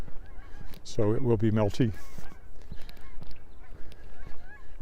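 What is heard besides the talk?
flock of geese honking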